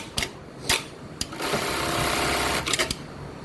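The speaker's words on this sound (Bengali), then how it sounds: "দেখেন বারটেক মারছি" An industrial bartack sewing machine stitches a bartack: a few sharp clicks, then a loud, rapid mechanical burst of about a second, followed by more clicking as it stops.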